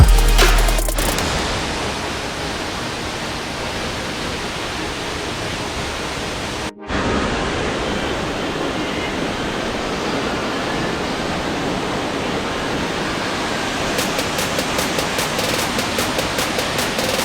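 El Tigre waterfall in the Monteverde cloud forest of Costa Rica roars as a loud, continuous wash of falling water, close and steady throughout with only a momentary dropout.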